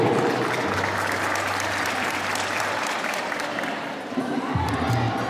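A crowd at a municipal celebration in São Sebastião do Umbuzeiro applauds the vice-mayor with sustained, dense clapping that stays strong throughout and eases slightly near the end.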